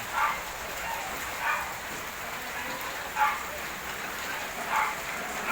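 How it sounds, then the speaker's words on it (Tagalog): Steady rain hisses close by during flooding in Las Piñas, Philippines, with a few soft louder swells breaking through the constant patter. "Umuulan pa, dire-diretso pa yung ulan."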